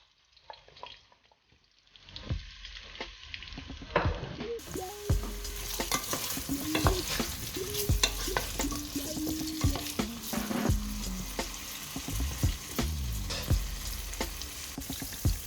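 Vegetables and potatoes frying in a pan for caldereta, starting quiet, then a loud sizzle as food hits hot oil, followed by continuous crackling with repeated scraping and stirring clatters close by.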